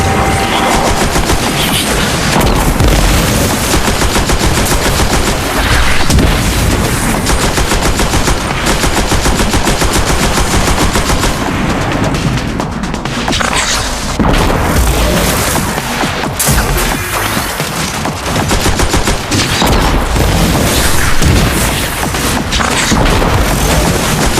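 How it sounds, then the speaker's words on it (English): Arc energy bolts blasting from a shield in the Destiny Rising video game, a long, loud barrage of rapid crackling bursts and booms, continuous and close. "So I retaliated by shooting bolts of arc energy from my shield, blinding them and purging everything."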